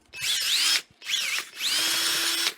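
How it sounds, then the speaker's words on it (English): A power drill spins a split rod wrapped with sandpaper to hone a part of a Waterloo Boy 5 hp engine, whining in three close, loud bursts with brief pauses between them. "Put your sandpaper in there. Put it in your drill."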